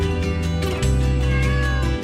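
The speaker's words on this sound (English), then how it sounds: "They won me over with their meows." A cat meows steadily and close by, a drawn-out plaintive call over a low humming background.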